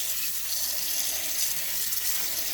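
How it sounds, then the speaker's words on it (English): Steady stream of tap water pouring into a bowl to soak washed koki beans, a continuous bright splashing rush at close range with no voices. "now that our beans is nice and clean, I'm just going to soak it inside water"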